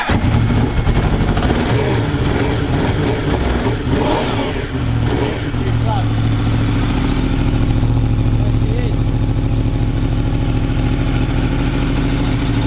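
A motorbike engine runs close by, revving up in rough bursts before settling into a steady loud idle, with people talking over it.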